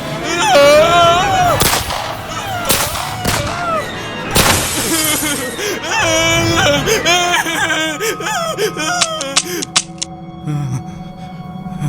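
Gunshots fired at a shinigami in the Death Note anime, several sharp loud cracks spread through the scene over music and voices, with talk running throughout.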